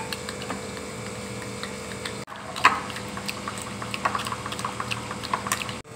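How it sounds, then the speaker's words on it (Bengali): Butter melts and sizzles in a pan in a home kitchen, a soft, steady frying hiss scattered with small crackling pops and ticks, heard close and alone. "মাখনটা দেখো মেল্ট হয়ে গেছে।"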